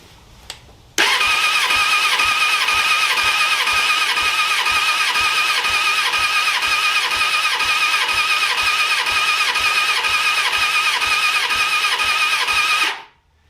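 The engine of a 2000 Suzuki Katana 750 motorcycle cranks on the starter during a compression test on the number 4 cylinder, a loud, close, steady whirring with rapid rhythmic compression pulses for about twelve seconds before stopping.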